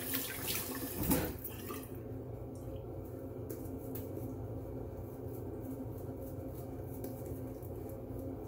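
Tap water runs in a quiet, steady stream during a rinse after wet shaving, with a soft bump of handling near the start and no talking.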